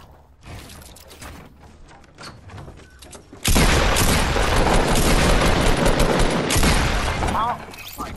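Fortnite gunfire: scattered single shots in the first seconds, then a sudden loud burst of rapid, overlapping shots and clatter lasting about four seconds before dropping away.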